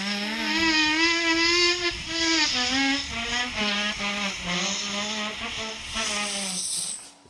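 A loud mechanical siren wails with a rising, wavering tone and a hissing rush of air, sustained and close throughout.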